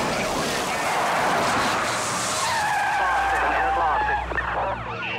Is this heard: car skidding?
yes